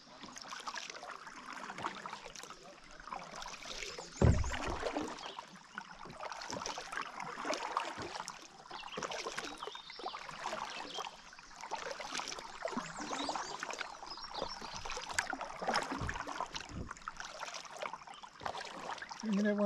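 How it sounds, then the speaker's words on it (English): Canoes paddled hard down the Buffalo River, with a steady rush of splashing water and paddle strokes up close and faint voices now and then. "they're paddling pretty hard too"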